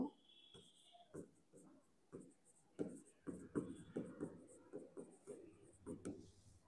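A pen scratches out a trigonometry solution on paper in short, irregular strokes and taps, close and fairly quiet, while a voice talks faintly underneath.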